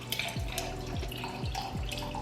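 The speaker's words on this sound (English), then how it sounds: "I'm going to pour myself a glass of iced tea" Iced tea being poured into a glass in a home kitchen while chicken finishes cooking, a steady trickling liquid stream with a few glugging surges, close and fairly loud.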